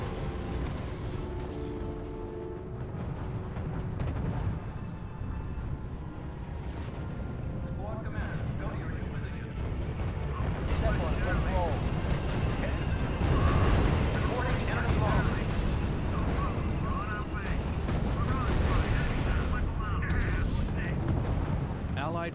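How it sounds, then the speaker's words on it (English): Field artillery battalion opening fire in the strategy video game R.U.S.E, a dense continuous barrage of booms and blasts building in intensity, with voices speaking over it. "Sir, the field artillery battalion is opening fire."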